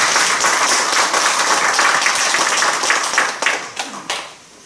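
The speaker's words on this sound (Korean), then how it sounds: "우리 박수 한번 쳐야 되지 않나요?" Audience applause fills a lecture hall at a talk on Korean religion, steady dense clapping from a crowd that holds strong for about three seconds and then thins into scattered claps before fading.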